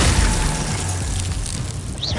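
Glacier ice spell cast during Hogwarts Legacy combat: a loud burst with crackling, shattering texture over a continuous game soundscape, with a rising whistle near the end.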